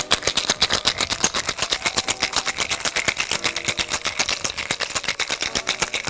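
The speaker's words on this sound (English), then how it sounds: "And now let's shake it hard" A cocktail shaker packed with ice and lemon juice is shaken hard for a champagne cocktail, giving a steady, rapid, loud rhythmic rattle of ice against metal that runs without pause.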